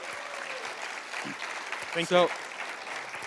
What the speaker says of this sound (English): Big applause for our sponsors and for Ankit.